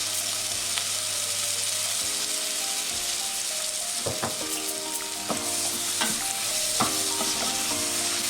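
Red onions caramelising in a pan are stirred steadily, a continuous close sizzle broken by repeated scraping strokes and clicks of the utensil, with no talking.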